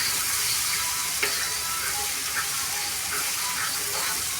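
Two large onions sauté in a pan with a dense, steady hiss of frying that holds close and loud, broken by a few soft stirring knocks.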